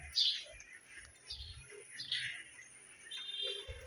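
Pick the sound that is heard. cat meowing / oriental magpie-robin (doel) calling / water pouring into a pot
oriental magpie-robin (doel) calling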